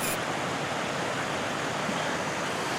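A waterfall beside a river pours as a steady, broad rushing roar, constant and fairly near, with no voices over it.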